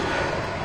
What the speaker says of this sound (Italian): l'aereo si chiama United Airlines è diretto per San Francisco, quindi il Boeing è